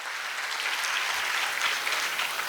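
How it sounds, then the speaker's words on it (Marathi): Steady, dense clapping from an audience at a school annual day, sustained evenly throughout with no voices rising above it. "एकदा जरा जोरदार टाळ्या सर्व मान्यवरांसाठी व्हायला हव्यात"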